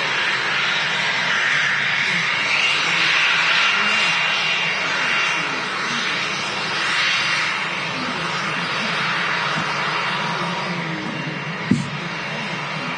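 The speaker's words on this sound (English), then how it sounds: "NetJets in from Dublin, Cessna 560 XL" A NetJets Cessna 560 XL business jet arriving from Dublin at Manchester Airport gives a continuous distant engine roar that swells and fades gently, with a brief sharp knock near the end.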